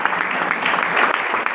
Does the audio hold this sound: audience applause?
yes